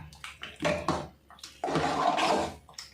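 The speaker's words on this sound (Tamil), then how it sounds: "தண்ணி எவ்வளவு உப்பு பத்தலை அப்படின்னு சொன்னால் நம்ம கரைக்கிறது தான் அதனால் எவ்வளோ வேணுமோ நம்ம ஊற்றிக்கலாம்" Water splashes and pours into a pot of ragi (finger millet) porridge in a few uneven bursts, close and fairly loud, with brief gaps between pours.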